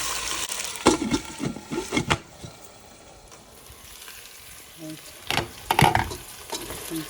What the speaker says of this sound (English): I'm just stirring it.